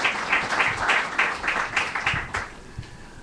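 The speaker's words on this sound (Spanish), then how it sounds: "Un aplauso para José Diac." An audience applauds an author at a Nicaraguan literary panel, a short burst of fairly close clapping that swells in pulses and then thins out and fades.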